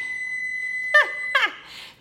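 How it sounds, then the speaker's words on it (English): A home oven sounds a steady electronic tone, then two short, bright beeps in quick succession as it reaches a 450-degree baking temperature, clear and close in a quiet kitchen. "my oven loves to beep"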